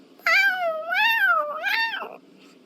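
A voice imitates a cat in the video game Genshin Impact, giving three clear, drawn-out meows in a row, close and alone, each rising and falling in pitch.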